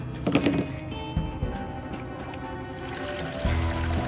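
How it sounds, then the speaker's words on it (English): Dye is poured into a swimming pool filter, giving a soft trickling and pouring of liquid that comes in short bursts. The sound is fairly close and quiet, and no voices cut across it. "then pours it into the filter,"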